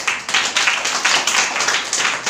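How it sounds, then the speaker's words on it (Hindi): A church congregation claps hands together in quick, rhythmic bursts, close and fairly loud, with a steady repeating pulse throughout. "ताली बजाओ।"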